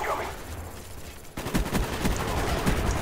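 M16 rifle fire in Call of Duty Black Ops, a rapid string of close, sharp shots in quick bursts after a short stretch of background game noise.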